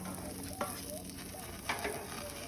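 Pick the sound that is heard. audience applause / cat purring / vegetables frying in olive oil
vegetables frying in olive oil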